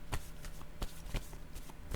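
Tarot cards being shuffled during a reading: faint, soft riffling and slapping with repeated short flicks and taps at an uneven rhythm, close by and quiet, with no voice.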